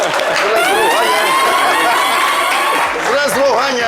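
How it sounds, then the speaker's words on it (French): Applause and cheering from a live audience in a French-language show, a steady crowd roar with wavering tonal whistles over it, sustained throughout at close, loud level. "Merci, applaudissements pour Shekina"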